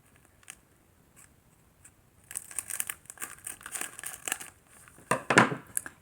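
Scissors cutting open a Japanese Popin' Cookin' candy kit packet: a few faint snips, then close crinkling plastic and sharp cutting crunches in quick bursts.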